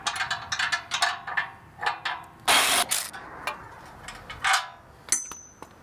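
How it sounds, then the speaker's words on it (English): A hand ratchet working 13mm bolts and nuts loose on the bottom of a 2022 Can-Am X3 Turbo during a muffler swap: rapid clicking pawl bursts in short runs, with a louder metallic rasp midway and a brief ring near the end. "on the bottom of both sides we got a 13mm bolt and nut that we got to take off"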